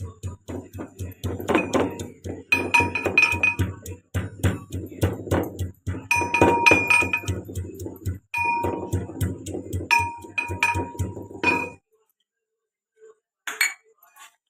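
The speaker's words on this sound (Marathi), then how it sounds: "आता आपण खलबत्यात कुटून घेऊया पहिला लसूण टेसून घेऊया" Garlic is pounded in a metal mortar and pestle for a Solapur peanut chutney, a rapid run of close, ringing clinking strikes that stops abruptly, followed by a couple of faint knocks.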